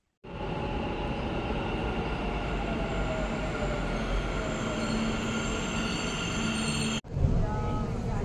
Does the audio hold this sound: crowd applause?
no